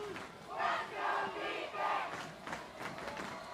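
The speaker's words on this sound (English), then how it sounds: "Raider crowd chanting for their defense" A high school football home crowd at Williamsburg chants loudly for its defense late in a close game against Mount Vernon, rhythmic swelling cries rising and falling in waves over a broad stadium roar.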